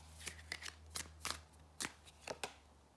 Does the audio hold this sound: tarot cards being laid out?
yes